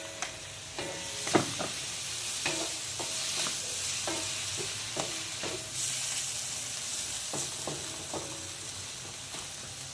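Mushrooms sizzle steadily in a frying pan for a cream carbonara, with a constant hiss broken by frequent scraping knocks of a utensil stirring them, close and moderately loud.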